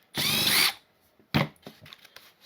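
A power driver backs screws out of a Ridgid 18ga Hyperdrive brad nailer during a teardown: one sharp half-second whir, then a shorter burst followed by faint clicks and handling noises.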